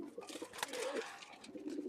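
Domestic pigeons of an old wild bloodline from Khulna give faint, soft cooing sounds in a loft, low and intermittent over a couple of seconds.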